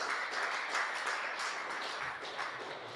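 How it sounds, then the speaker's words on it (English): Steady crowd applause from an audience at a hi-tech awards launch event in Christchurch, a dense wash of many hands clapping at once that carries evenly through and eases slightly toward the end. "So again, big round of applause for all of them."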